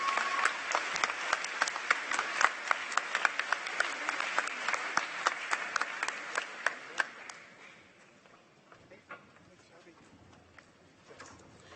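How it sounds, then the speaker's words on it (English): Crowd applause for honorees at a city celebration, a dense patter of many hands with sharp individual claps, fading after about eight seconds into quieter room noise and scattered claps. "Please give a warm welcome and an applause to the Tree Valley Advisory Group."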